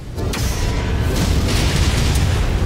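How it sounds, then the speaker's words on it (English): A deep, rumbling missile explosion in the Dragon's Gambit mech game, a sustained low boom with a few sharp pops rolling on for a couple of seconds, loud and close. "Incoming missile."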